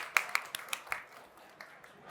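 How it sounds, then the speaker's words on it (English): A few scattered hand claps from a small audience at a Grana Padano chef demonstration, faint and brief, fading quickly after the first several claps. "Can we give an applause to Marianne as well"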